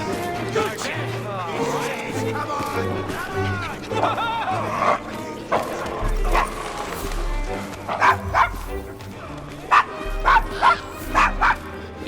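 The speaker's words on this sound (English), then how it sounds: "Is your dog quite all right?" Dog barks and yips repeatedly in a rough Victorian London slum area, the Devil's Acre, in the video game Assassin's Creed Syndicate, rising in short bursts over background talk and ambient game sound.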